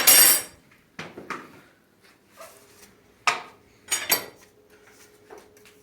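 A big spoon clinks sharply against a clay pot while salt goes into a stew cooked over a wood stove, with several distinct metallic knocks and scrapes spread over quiet gaps.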